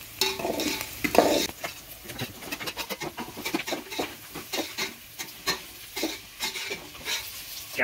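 Onions fry in a pan while being stirred, a steady sizzle under repeated close spatula scrapes and clinks in an uneven rhythm.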